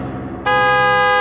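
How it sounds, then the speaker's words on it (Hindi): A car horn blares at night, starting abruptly after a low rumble and holding one loud, steady, sustained blast close by to the end. "इतना रात को भोंपू बजा रहा है जोर जोर से"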